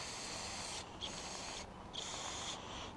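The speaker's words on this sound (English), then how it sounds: "Yeah, so even carb cleaner's not doing a whole lot." Aerosol can of carb cleaner sprayed on an old car, several short, close hissing bursts separated by brief pauses, with no talking.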